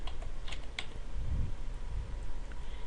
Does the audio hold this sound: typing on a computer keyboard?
yes